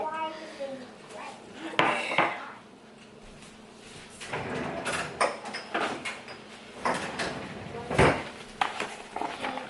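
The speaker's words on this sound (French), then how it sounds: "Je vais prendre un truc là pour mélanger, pour mettre ici et pour mélanger ici." Flour tortilla dough ingredients being mixed with a utensil in a bowl, irregular knocks, scrapes and clatters at close range, with talking in between.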